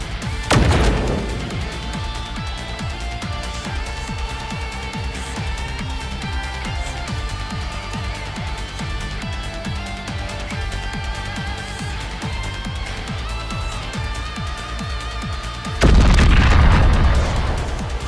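Matter bomb going off in the game Goddess of Victory: NIKKE, a heavy boom at the start and another loud blast near the end, over continuous game music with rhythmic beats.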